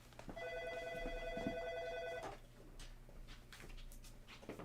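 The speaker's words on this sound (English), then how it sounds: "Whoa, who's calling at this hour?" A telephone rings during a denim live stream, one long electronic ring tone close by for about two seconds that then stops, followed by quiet room noise and faint clatter.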